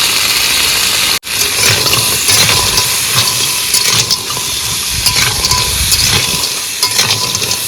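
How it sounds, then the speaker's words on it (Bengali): Crabs caught in the Sundarbans sizzle loudly in a hot pan with salt and turmeric, a continuous close frying hiss broken by stirring clatter. "কাঁকড়া ভাজা হচ্ছে"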